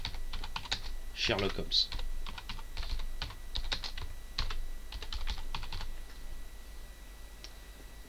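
Typing on a computer keyboard while entering text in a Word document, with bursts of quick, light key clicks spread irregularly across the span, close and fairly soft, with a brief spoken phrase mixed in.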